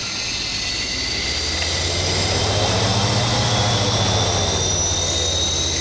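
The turboprop engine of a BAe Jetstream 41 runs up on the ground during start, a loud, steady roar with a high whine and a low droning hum that never lets up.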